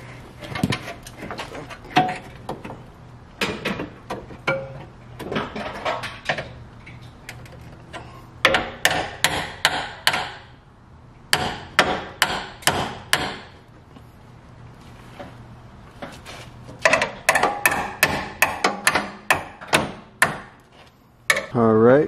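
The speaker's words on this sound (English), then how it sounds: "now I'm just gonna hit them up with the hammer and see what that does" Bursts of rapid, sharp hammer blows bending pieces cut from a BMW E46 frame, close and loud, separated by quieter pauses with faint handling noise.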